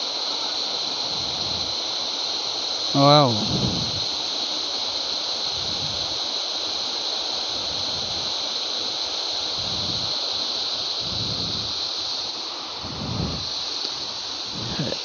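Artificial waterfall at KLCC Park in Malaysia: a steady broadband rush of falling water fills the scene at a constant level, with one voice briefly exclaiming near the start.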